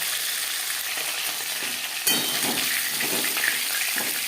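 Tilapia fish pieces frying in a pan of oil, a dense steady hiss that jumps louder midway as the fish is turned, with faint bubbling and crackle close by.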